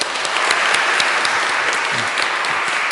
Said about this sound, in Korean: 우리 성도 여러분들께서 박수로 축하해 주시고 환영해 주시기 바랍니다